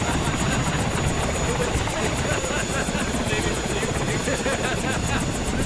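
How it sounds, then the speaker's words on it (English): A UN cargo aircraft's engine runs close by, a loud, constant droning roar with a steady rhythmic pulsing throb high up, unbroken for the whole stretch. "This is our new cargo aircraft."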